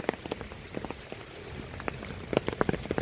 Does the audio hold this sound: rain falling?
yes